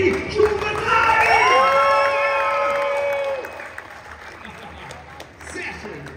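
A Movie Park show audience, many of them children, cheers, shouts and claps loudly, then the noise fades to a lower murmur of scattered applause.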